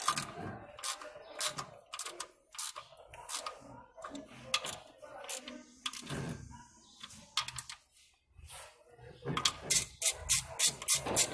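Bolts on the timing chain cover of a Nissan 16-valve engine are being tightened with a ratcheting tool, bursts of rapid clicking in irregular runs, close and fairly quiet, with short pauses between.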